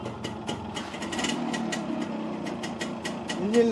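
A Yamaha RX100 two-stroke motorcycle engine idles steadily nearby with the silencer closed, a muffled, even putter and a faint mechanical ticking, rising slightly in loudness near the end.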